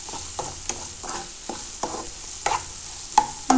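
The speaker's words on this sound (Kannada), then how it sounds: "ಅದನ್ನು ಈರುಳ್ಳಿನ ಎಣ್ಣೆಯಲ್ಲಿ ಸ್ವಲ್ಪ ಚೆನ್ನಾಗಿ ಬಾಡಿಸಿ ಆನಂತರ ಉಪ್ಪು ಹಾಕೋದ್ರಿಂದ ಈರುಳ್ಳಿ ಸ್ವಲ್ಪ ಬೇಗ ಮೆತ್ತಗಾಗುತ್ತೆ ಎಣ್ಣೆಯಲ್ಲಿ" Onions cooking in oil with salt in a pan for a North Karnataka hesaru kalu palya, heard as a soft steady sizzle with a series of spoon-scraping stirs coming at a fairly regular pace, close up and with no voices.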